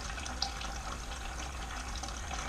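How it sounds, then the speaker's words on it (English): Water pours steadily from a transmission cooler into a bucket, a continuous close splashing trickle with no talk over it. "water is flowing out of the bucket, or out of the cooler here, into the bucket"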